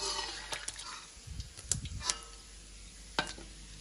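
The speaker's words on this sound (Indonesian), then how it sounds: "teman-teman boleh goreng ikan terinya sampai kering atau lembab" Oil sizzling softly with scattered clicks and pops of a stirring utensil as small anchovies fry, a quiet steady frying hiss throughout.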